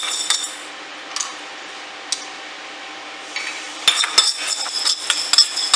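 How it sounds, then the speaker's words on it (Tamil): Fenugreek seeds roast in a small kadai, a soft dry hiss under sporadic metallic scrapes and clinks of a spoon stirring the pan, growing busier and more rattly near the end. "இந்த வெந்தயத்தை வறுத்து எடுத்துக்கலாம்"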